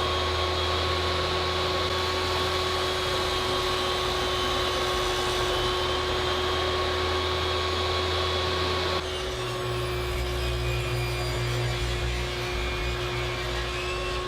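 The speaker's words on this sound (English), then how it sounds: "I'll square up my new block of wood on the table saw" A table saw squares up a block of wood in a workshop, producing a loud, steady, continuous motor whine with a high blade tone that shifts pitch partway through the cut and holds to the end, with no talking.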